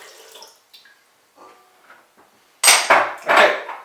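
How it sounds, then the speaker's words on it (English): Warm water, about 110 degrees, poured into a mixing bowl for Portuguese bun dough; a brief loud splashing pour near the end follows quiet handling noises. "Now can you pour all the water in?"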